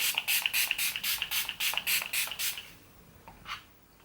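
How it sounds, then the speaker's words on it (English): Rapid series of short, sharp pumps of a Revolution Hyaluronic Fix makeup setting spray, about ten quick hissing spritzes in a steady rhythm, then a pause and one last faint spritz. "I'm just going to finish off with using the Revolution Hyaluronic Fix Setting Spray."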